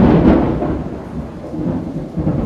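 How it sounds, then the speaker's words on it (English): Thunder rumbles low and heavy during a rainstorm, with steady rain pouring down underneath. "Did you hear the thunder?"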